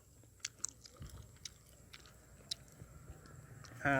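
Someone eats squid tentacles, soft wet chewing and occasional sharp bites up close in a quiet room, with a louder clatter at the very end.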